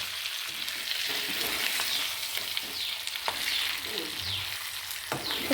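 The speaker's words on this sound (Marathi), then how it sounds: "छान फिरवून घ्यायचं एकदम मसाला कोट होते आणि छान भाजी एकदम सुवास येत आहे" Stuffed capsicum coated in masala sizzles and fries in a pan, with repeated scraping stirs and spatula clinks over a steady close hiss.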